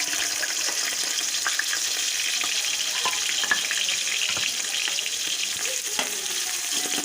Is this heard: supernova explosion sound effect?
no